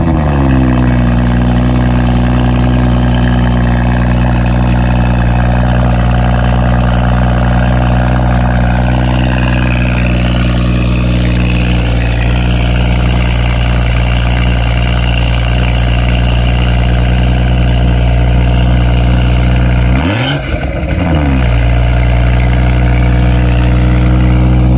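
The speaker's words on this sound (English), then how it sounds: "So we're gonna get y'all a cold start," An X3 car engine idles after a cold start, a loud steady low hum with a few mid-clip shifts in pitch and a brief disturbance near the end before settling back to idle.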